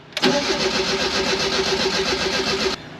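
A freshly replaced Fiat X1/9 engine cranks and fires up, settling straight into a loud, steady close-up idle for a few seconds before cutting off abruptly.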